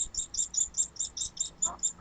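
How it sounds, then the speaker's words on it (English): A bird near the microphone gives a rapid series of about ten high, evenly spaced chirps over two seconds, with faint background noise beneath. "bird flying by. I don't know if you could hear that."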